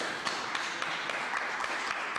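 Studio audience applauding on a French-language TV quiz show, a dense, steady patter of many hands with a few sharper claps standing out, sustained for a couple of seconds at moderate loudness.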